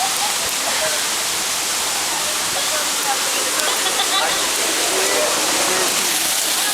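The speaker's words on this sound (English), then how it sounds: "now he's going to go under the waterfall, which is right there." A Jamaican waterfall pours down in a steady, loud, dense hiss and roar of falling water, close by and unbroken throughout.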